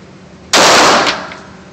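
A single loud gunshot at an outdoor shooting range, a sharp close blast with a quick echoing decay.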